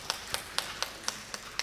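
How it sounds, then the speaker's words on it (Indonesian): Faint, evenly spaced claps at a church Christmas celebration, about seven sharp hand claps in a steady rhythm over quiet room tone. "Tepuk tangan dulu."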